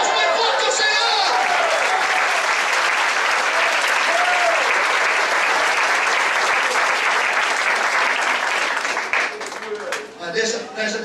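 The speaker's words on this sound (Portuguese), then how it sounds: "Aplausos bem forte ao Senhor." A church congregation gives loud, sustained applause, a dense roar of clapping with cheering voices mixed in, fading slightly near the end.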